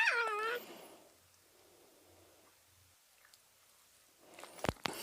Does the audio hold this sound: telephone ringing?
no